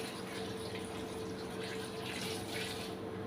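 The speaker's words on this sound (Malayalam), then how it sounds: "അപ്പം ഇതിലേക്ക് നമുക്ക് വെള്ളം ഒഴിച്ചു കൊടുക്കാം." Water poured steadily into a cooking pot, a continuous soft rushing splash at low level with no break from start to finish.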